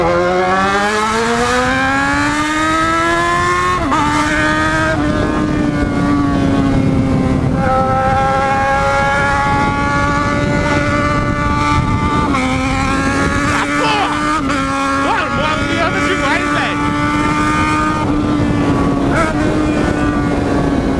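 Yamaha XJ6 motorcycle engine revved and accelerated hard, pitch climbing through gears with repeated rising whines and shifts, loud and close, sustained throughout.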